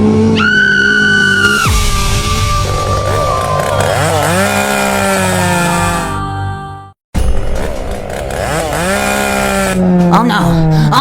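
A chainsaw engine runs loud and close for most of the stretch, its pitch rising and falling as it revs, cutting out abruptly for a moment near the end before roaring back.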